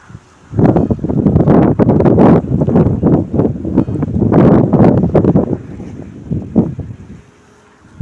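Strong gusts of wind roar and buffet the microphone almost continuously on a cumin farm, easing off near the end.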